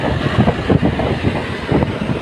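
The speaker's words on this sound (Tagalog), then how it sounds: "Malakas lang yung hangin ha" Strong wind buffets the microphone in heavy low rumbling gusts at an open construction site in Iligan City, Philippines, loud and close, with no voices.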